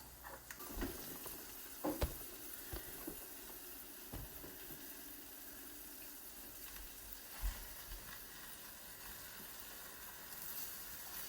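Mushrooms cooking slowly in butter in a pan give a soft, steady sizzle and hiss, with occasional brief stirring clatters and pops, close by and without talk.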